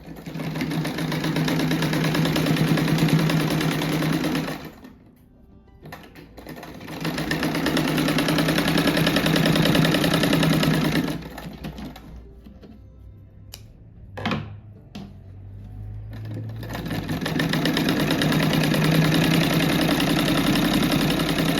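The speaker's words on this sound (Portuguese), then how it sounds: "Agora eu vou costurar umas rendinhas assim nas emendas." A sewing machine stitches small pieces of lace onto the seams of a patchwork rug, running in steady whirring bursts with short pauses between runs.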